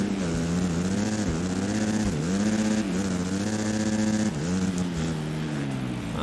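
A motocross motorcycle engine in the Monster Energy Supercross 3 video game drones steadily at high revs, its pitch dipping and climbing in several swells as the throttle eases and opens again, loud and continuous with no talk.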